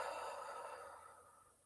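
A slow, deep exhale of breath during a guided energy meditation, a soft airy rush that starts fuller and gradually tapers off, faint and close with no talking.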